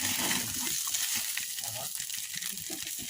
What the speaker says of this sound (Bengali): তখন এটার মধ্যে কাঁচামরিচ এবং ধনে পাতা দিয়ে এভাবে নেড়ে নেবেন